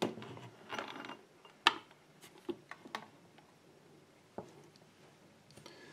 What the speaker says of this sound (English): Now it's time to put in the springs and the driver pins.